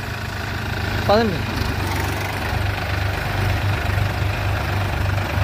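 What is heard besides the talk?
Powertrac Euro 45 and New Holland Excel 4710 tractors driving in load gear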